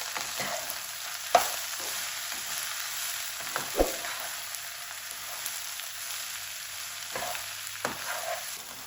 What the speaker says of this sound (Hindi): अभी थोड़ा इसको मिक्स करेंगे।